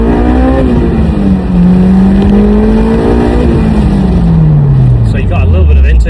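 A Honda S2000 with a Revel Medallion dual exhaust drones loudly and steadily up close, its exhaust note rising slightly and then dropping away as the revs fall.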